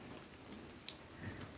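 Long-awaited rain falls in Gurlan, a faint, steady hiss of drops pattering on surfaces with one brief louder drip.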